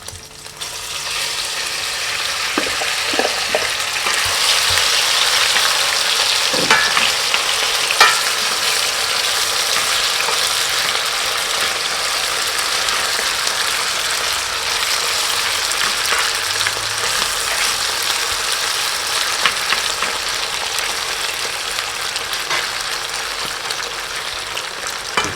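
African land snails sautéing with spices in a pan in a traditional Congolese kitchen in Kinshasa, a steady loud sizzle with faint stirring clinks, no voices.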